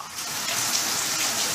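Heavy rain pours down in a dense, steady hiss without breaks, loud and close, with no voices over it.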